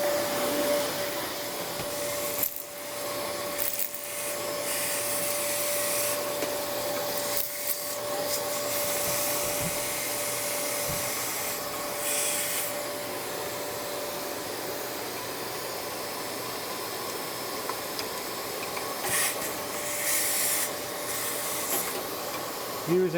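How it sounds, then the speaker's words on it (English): A vacuum cleaner runs steadily and loudly up close, sucking coffee grinds out of a Lelit Kate grinder, with brief dips and rubbing sounds as the nozzle moves around. "The next step will be to vacuum the beans or grinds out."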